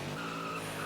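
Tires squeal in a sustained high screech from a race car skidding at Pocono Raceway, steady and fairly loud across the brief moment.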